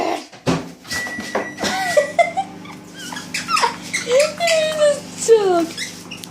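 An excited dog whimpers, squeals and yips in rapid high-pitched bursts while playing with a sheep toy, close and fairly loud, with short sharp sounds scattered throughout.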